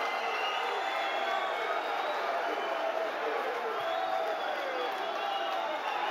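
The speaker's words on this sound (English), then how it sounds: "the crowd got wild here for Ismail Lazar" A kickboxing fight crowd cheering wildly after a knockout, a dense, continuous roar of many voices at steady high loudness, with a commentator talking over it.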